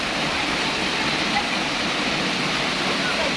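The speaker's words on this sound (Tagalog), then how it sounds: "ganda ng falls. Yan yung falls nila." A waterfall pours in a steady, dense roar of falling water, loud and unbroken throughout, with a faint voice barely present beneath the rush.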